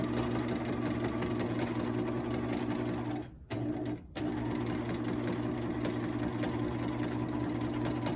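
A sewing machine stitching an apron pocket, a steady close mechanical whirr that runs continuously and briefly stops twice near the middle before resuming.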